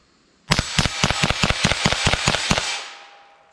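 A Remington Yellow Jacket .22 LR rifle fires about a dozen sharp shots into ballistic gel in quick, fairly even succession. The reports are loud and close, then fade into a short ringing tail.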